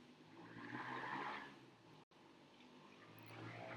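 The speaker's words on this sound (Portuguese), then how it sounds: "uma moto aí passando, fazendo barulho" A motorcycle passes by outside, a steady broadband engine and road rush that swells, dips briefly, then builds again, heard faintly from a distance with no talk.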